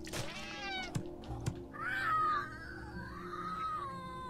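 A cat meows in the video game Slayaway Camp, with a few rising and falling meows, moderately loud and close, punctuated by brief clicks and light game sounds.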